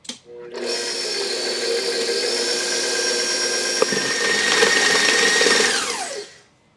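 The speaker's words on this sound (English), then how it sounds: "I'm going to put my paddle on, and I'm going to mix it up" A stand mixer fitted with a paddle beats gluten-free baguette dough on high, giving a steady motor whir with a rising pitch and a sharp knock midway, then spinning down and stopping.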